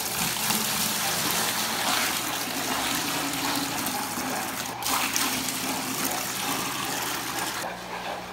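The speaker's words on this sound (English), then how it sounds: "So I'm gonna fill these up with tank water" Aquarium tank water pours steadily into buckets, a continuous loud gushing rush that holds for the whole stretch with only slight changes in flow.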